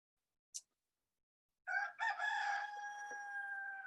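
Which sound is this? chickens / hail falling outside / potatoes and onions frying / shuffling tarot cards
chickens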